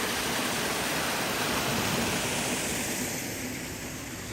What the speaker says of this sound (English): Got a little water right here.